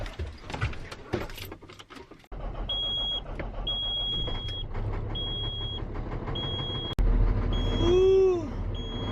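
A farm truck that has been sitting overnight cranks and catches, its engine settling into a steady idle while a warning chime beeps repeatedly, with a louder mechanical clunk near the end.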